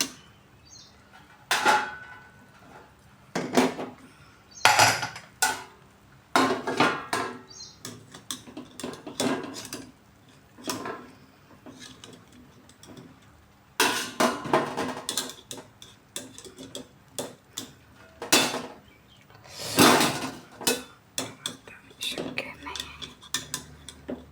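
Boiled corn is lifted out of a pressure cooker in a kitchen: scattered metallic clinks, scrapes and clatters of utensils against the pot come in short bursts separated by quiet gaps, close but moderate in level.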